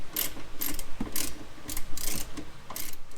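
Ratchet wrench tightening a connection while installing an aftermarket double-bypass module in a 2020 Chrysler 300S, with short bursts of close, crisp clicking repeated in a loose, uneven rhythm.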